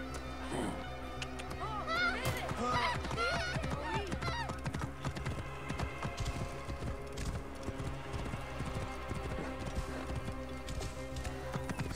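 Horse hooves galloping in Assassin's Creed Origins, a steady clip-clop rhythm running throughout, with a brief neigh, mixed under game music and effects while someone talks over it.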